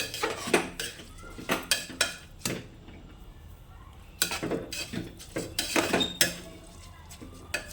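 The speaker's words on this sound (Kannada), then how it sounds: "ವಾಶ್ ಮಾಡಿಟ್ಟಿರೋ ಅಕ್ಕಿನ ಹಾಕಿ ಸ್ವಲ್ಪ ಹಾಕಿನೇ ಫ್ರೈ ಮಾಡಿ" Washed rice is stirred and fried in a pot for egg biryani, giving repeated scraping clinks of a metal spoon against the pan in short bursts, with quiet gaps between.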